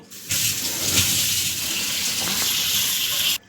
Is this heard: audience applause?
no